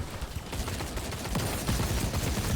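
Shotgun blasts in The Cycle, a game firefight, come as repeated dense bursts of gunfire over busy combat noise, moderately loud and continuous.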